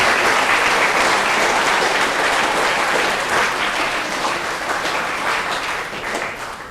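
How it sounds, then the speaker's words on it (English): An audience at a Sacred Hearts event in San Francisco gives a loud, dense round of applause, sustained clapping filling the whole stretch and tapering slightly at the end. "if we can kindly have a round of applause for Ari for putting something like this"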